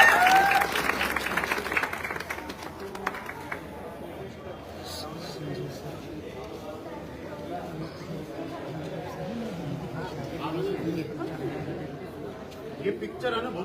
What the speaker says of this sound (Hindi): जोरदार तालियां सुनिए